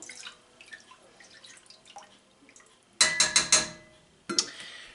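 Riesling wine is stirred into a fish pickling mixture for northern pike: soft trickling and faint clinks give way to a quick series of sharp utensil scrapes and knocks against the container, then one more clatter.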